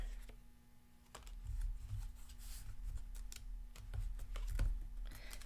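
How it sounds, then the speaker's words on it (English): A brand-new, stiff deck of playing cards is shuffled in short bursts of crisp clicks and riffles. The sound is fairly quiet and close, with no talking. "These cards are new and they don't shuffle easily."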